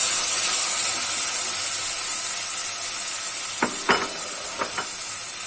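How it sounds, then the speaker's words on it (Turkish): Onions sauté in a pan for a Turkish olive-oil artichoke dish, a steady close sizzling hiss throughout, with a few light clinks of a utensil near the end. "soğanımızı ekleyip biraz kavuracağız"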